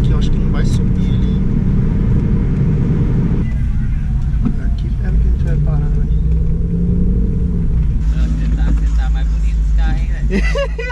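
A lowered car creeping slowly over bumps, a continuous low engine rumble and road drone from inside the cabin while people talk over it.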